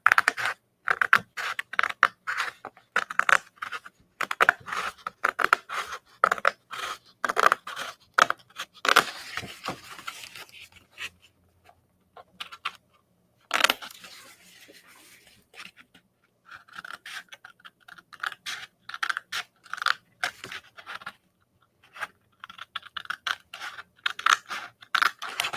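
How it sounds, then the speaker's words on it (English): Scissors snip through paper for card making in quick, irregular bursts of crisp cutting, close and quiet, with short pauses between cuts. "Could have used a paper trimmer, but we're using scissors."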